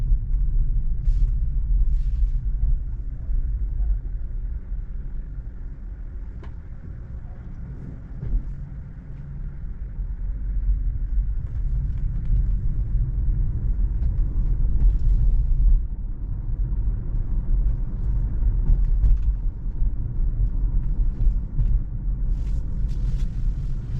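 Steady low road rumble inside a Tesla car driving on Autopilot through a residential street, a continuous even drone with no talk.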